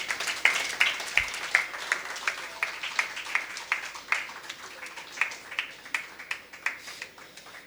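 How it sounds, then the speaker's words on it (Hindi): Applause from an audience welcoming a speaker, a thin scattering of individual claps in an irregular patter, fairly close and moderate, continuing for several seconds without talk. "तो आपकी जोरदार तालियों के बीच मैं आपके और उनके बीच में नहीं आऊँगा।"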